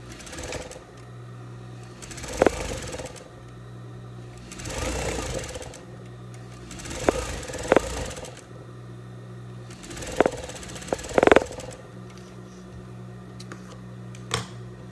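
Sewing machine running zigzag stitch along closed seams of a red viscose-linen dress, a steady motorized whir in several bursts with brief pauses and a few sharp clicks between runs.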